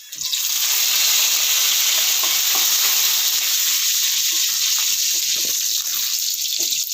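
Dried red chillies and curry leaves sizzle in hot oil while tempering for papaya erissery, a loud, steady frying hiss that crackles continuously throughout, close and alone.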